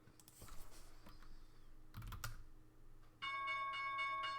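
Computer keys clatter in short bursts, then the stock market opening bell starts ringing loudly and keeps ringing steadily until the end.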